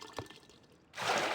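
Water being poured in a survival crafting video game, a short bright rushing splash arriving suddenly after a quieter stretch and holding to the end.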